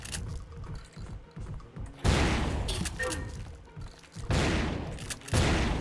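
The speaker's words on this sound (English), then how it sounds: "I love a shotgun that doesn't need to be reloaded" Shotgun blasts in the video game Turok 3: Shadow of Oblivion, three loud booming shots spaced about two seconds apart, each with a rumbling tail, over continuous low game noise and scattered thuds.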